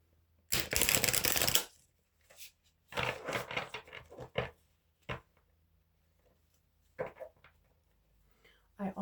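Awakening Tarot cards being shuffled up close, first in a long riffle burst and then in several shorter shuffles with pauses between them, on an otherwise quiet background.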